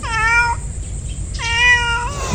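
Two distinct cat meows, each a drawn-out harmonic cry about half a second long with a pause between, loud and close, heard in a rural Filipino home setting with no talk.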